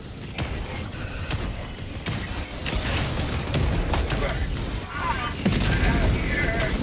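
Chaotic Helldivers 2 combat with a rocket slamming into the player amid continuous gunfire, booms and mechanical clatter, loud and dense throughout, with a player shouting over it.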